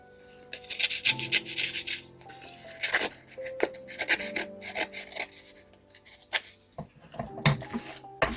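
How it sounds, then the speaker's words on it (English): Paper being torn and distressed by hand for a craft project, giving repeated close rasping rips and rubbing scrapes in short bursts, with soft background music and no talk. "let's just do a tear and a fold. Just have a bit more distressing going on there."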